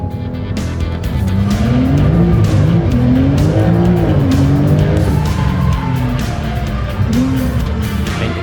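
A Brabus car being tested in a parking lot, its engine revving loudly and close with wavering pitch as it accelerates and brakes, tires squealing, and a voice talking briefly over it.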